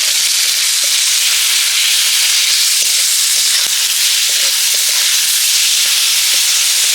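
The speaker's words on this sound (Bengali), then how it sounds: "এবার দেব আমি আদা রসুন বাটা, কাঁচা লঙ্কা কুচি, এগুলো দিয়েও হালকা করে ভেজে নেব" Ginger-garlic paste and chopped green chillies frying in a pan with onions, a steady close sizzling hiss running throughout with small faint pops and ticks, no voices.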